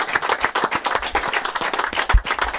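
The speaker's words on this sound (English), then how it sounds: "So can we have a round of applause for Pat?" A small group claps for a retired colleague, Pat, distinct individual claps in a quick uneven rhythm, close and fairly loud, over a short burst.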